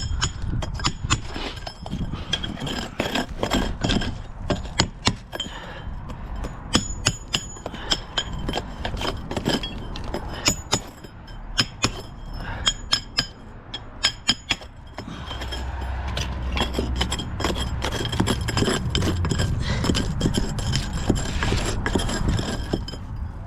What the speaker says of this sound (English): Got my nice long comb chisel.